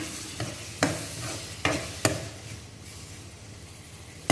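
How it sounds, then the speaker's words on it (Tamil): Onions and tomato purée sautéing in oil for a bitter gourd kulambu, a soft continuous sizzle broken by a few sharp spoon knocks against the pan, close and moderately quiet. "இதையும் நல்லா நம்ம எண்ணெயிலே கொஞ்சம் நல்லா இந்த பச்சை வாசனை போகிற அளவுக்கு வதக்கிக்கலாம்"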